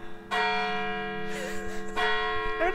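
A church bell in Fort Kent, northern Maine, rings out loud and sustained, with irregular strikes: one tolls early and another around two seconds, each leaving long ringing overtones that linger.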